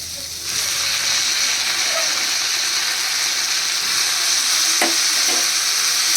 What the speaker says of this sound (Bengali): ডালটা আমি একটুখানি এর সাথে ভেজে নেব